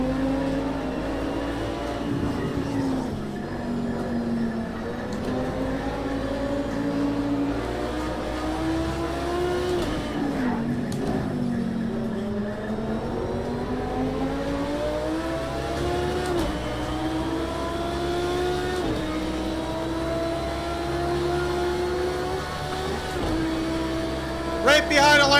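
Race car engines roar continuously in Project Cars 2 while running right behind a Lamborghini and an Audi R8, pitch rising and falling through gear changes with a steady droning tone throughout.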